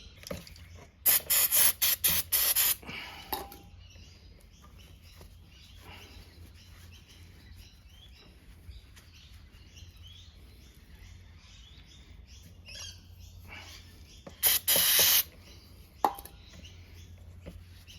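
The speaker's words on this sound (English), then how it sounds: "I'll just clean these plugs with a bit of brake cleaner" Brake cleaner is sprayed onto the front differential drain plugs of a Mercedes ML350 W164, with two sets of loud, close hissing bursts, several short blasts at first and another pair later, over quiet workshop background.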